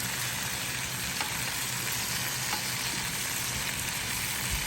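Chicken pieces seasoned with salt and black pepper, cooking in a Power XL appliance for honey garlic chicken, give a loud, continuous sizzling hiss with a couple of faint clicks as they are turned, close up and without speech.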